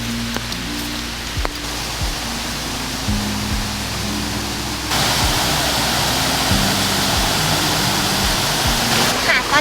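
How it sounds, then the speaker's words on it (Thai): Huay Sawai waterfall, a natural cascade over many rocks, pours with a steady broad rushing roar that swells louder partway through, while someone speaks over it. "ตอนนี้เราก็มาถึงน้ำตกแล้วนะคะนี่เลยค่ะ น้ำตกห้วยสวายนะคะ"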